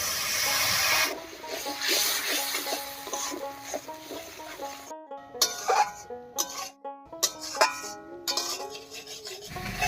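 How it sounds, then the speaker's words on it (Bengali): Spice paste fries in a pan as water is added, a close steamy hiss and bubbling that gives way to scraping stirs and irregular sputtering bursts over a low background hum. "এবার একটু জল দিয়ে মশলাটাকে ভালো করে কষিয়ে নেব।"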